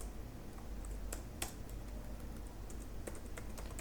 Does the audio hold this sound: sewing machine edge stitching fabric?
no